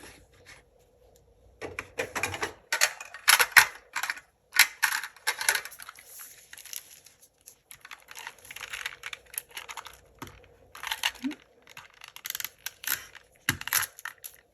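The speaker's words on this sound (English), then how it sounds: "Okay, so I'm going to tape this down." Tape is pulled and pressed onto a paper planner page, giving a close, quiet series of crinkly taps, rustles and small ripping scrapes in irregular bursts with short silent gaps between them.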